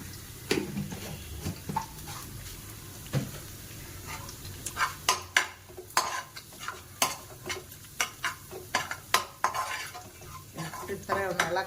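A spoon stirs a spiced snack filling with chilli powder and crushed chilli in a pan, giving irregular scraping clinks against the metal over a soft sizzle, with sharper knocks clustering in the second half.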